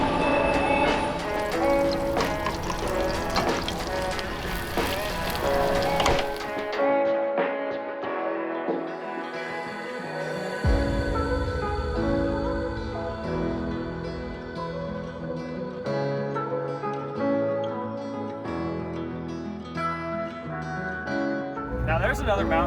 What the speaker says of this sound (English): they're literally right there. You can see the train.